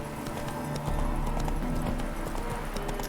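Roach the horse galloping in Witcher 3, a steady rolling run of clip-clop hoofbeats that stays loud and continuous over game music throughout.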